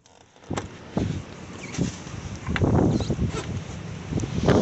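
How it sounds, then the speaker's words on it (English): Strong wind off Lake Michigan buffets the microphone in rough, rumbling gusts that build and swell, with a steady breezy roar beneath. "It's very windy here at Lake Michigan"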